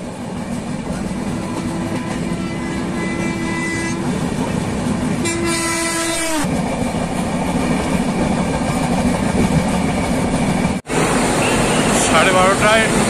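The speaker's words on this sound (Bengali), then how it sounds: "পার হচ্ছে রূপনারায়ণ নদীর উপর কোলাঘাট ব্রিজ।" Gitanjali Express train crossing the Kolaghat bridge over the Rupnarayan river, a loud continuous rumble of wheels on the span with sustained horn blasts partway through and a brief dropout near the end.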